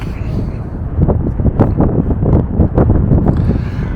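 Steady wind buffeting a microphone atop the Funkturm in Berlin, a low rumbling roar with gusty swells that continues throughout, loud and close.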